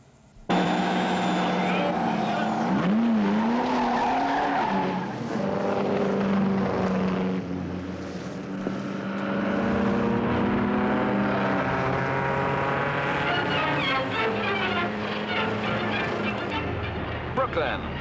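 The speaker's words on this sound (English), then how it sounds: "the final meeting of an exciting season brings out the fastest of the speed cars" Speed cars race at the final meeting of a season, their engines roaring and sweeping past at varying distance beneath steady newsreel commentary from a male announcer.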